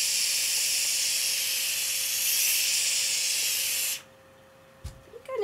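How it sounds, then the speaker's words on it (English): Steam hissing onto synthetic dreadlocks, a steady bright spray-like hiss lasting about four seconds, then cutting off to near silence before a faint handling noise. "then just lightly steam it"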